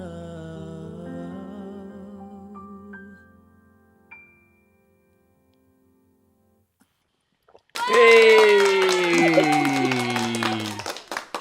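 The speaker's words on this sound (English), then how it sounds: "It's the clapping at the end of it." Clapping at the end of a song during a live show: after a fading sung melody and a few seconds of near silence, a crowd's applause and cheering voices burst in loudly and carry on to the end.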